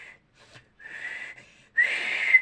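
A voice imitates a pressure cooker whistling, producing thin, shrill whistles in short bursts with brief gaps, ending in a longer, louder sustained whistle.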